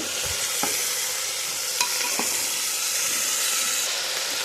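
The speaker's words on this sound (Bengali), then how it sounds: "একটুখানি আলুটাকে কষিয়ে নেব।" Potatoes sautéing in a pan, an even, close frying sizzle throughout with occasional spatula taps and scrapes as they are stirred.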